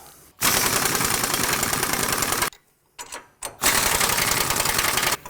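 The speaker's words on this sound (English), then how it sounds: "This is the perfect place to use air tools." A pneumatic impact wrench loosens a sway bar bolt on a vehicle being fitted with a lift kit, firing in two long, loud, rapid hammering bursts separated by a gap and a few short taps.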